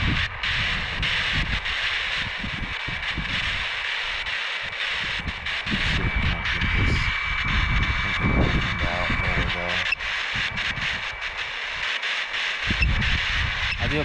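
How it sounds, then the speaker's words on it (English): Gusty wind buffeting the microphone in loud low rumbles outdoors, with a steady engine-like drone in the background and a person talking intermittently. "I do apologize about the wind."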